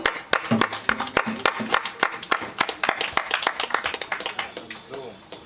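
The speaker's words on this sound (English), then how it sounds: "So we give Brother Miguel a nice round of applause" Sparse, distinct handclaps greet a speaker at a Rastafari society anniversary gathering, a small group clapping close by with individual claps standing out before tapering off.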